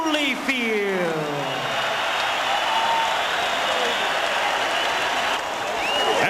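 Boxing arena crowd roars and applauds Evander Holyfield after his upset technical knockout win over Mike Tyson for the WBA heavyweight title, a dense sustained cheer throughout with a ringside announcer talking over it.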